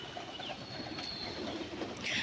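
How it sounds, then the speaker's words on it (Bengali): Pigeons cooing on a rooftop, soft and somewhat distant, over a steady background hum, with no voices. "দেখো আজকে প্রচুর পায়রা এসছে"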